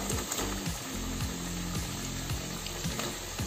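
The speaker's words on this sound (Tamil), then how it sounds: "இனி ஃப்ரெஞ்ச் ஃப்ரைஸ் நம்ம ஒன்றா போட ஆரம்பிச்சுக்கலாங்க" French fries sizzling in hot oil in a home kitchen, a steady close crackle with repeated scraping strokes as the pieces are stirred, no voices.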